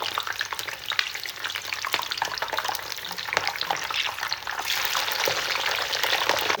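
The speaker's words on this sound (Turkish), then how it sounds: "biberleri attığım gibi hemen şöyle bakın kızardı." Peppers sizzle and crackle steadily in hot oil, dense popping throughout that grows a bit louder and hissier toward the end.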